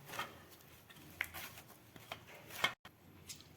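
Cooked jowar (sorghum) flour dough being kneaded by hand with oiled palms: quiet, sparse soft slaps and squishes with a few sharper clicks, close by, with no talking.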